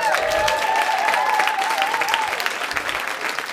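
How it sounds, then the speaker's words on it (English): Steady applause from a comedy club crowd at a stand-up show, dense clapping filling the whole stretch at an even loudness, with a faint tonal hum underneath. "give them a round of applause"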